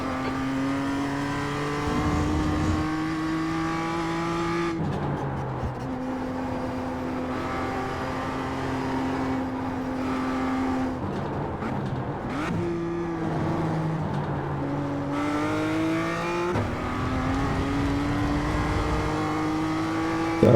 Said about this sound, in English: This car just will not turn that hard for me.